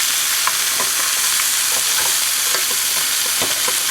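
Pork browning in a frying pan with garlic and onions: a loud, dense, continuous sizzle up close, with soft rhythmic stirring taps and scrapes running through it.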